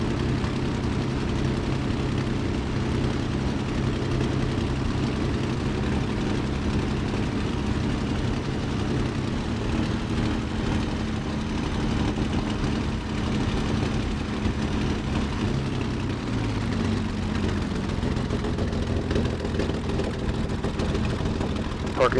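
A Bf 109 tail-dragger's propeller engine drones steadily while taxiing in Microsoft Flight Simulator. The hum stays loud and even, and its pitch drops partway through as the engine slows.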